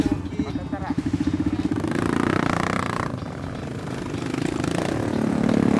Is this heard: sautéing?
no